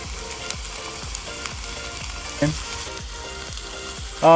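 Garlic and ginger sizzle steadily in a hot pan, a dense, even crackle with periodic soft stirring knocks, close and loud with no talking.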